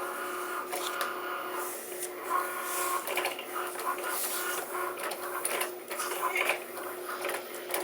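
A Cricut Maker cutting machine slices a sheet of white cardstock, giving a steady mechanical whirr with quick clicks and shifting carriage movements that run continuously for about eight seconds at moderate volume.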